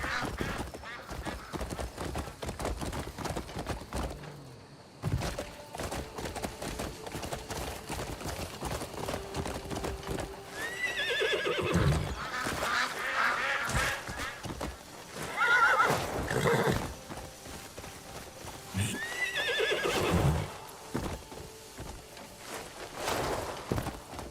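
Video game horse sounds: repeated loud neighs and whinnies over a busy clattering background of hooves and game effects.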